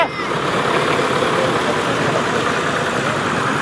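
A Fordson Super Dexter four-wheel-drive tractor idling during an agricultural show parade, a steady loud diesel rumble with broad engine noise, continuous over the short span.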